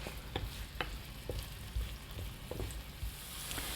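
Octopus and potato pieces stir-fry in olive oil with a soft, steady sizzle, broken by occasional light clicks and scrapes of stirring, quiet and close with no talk.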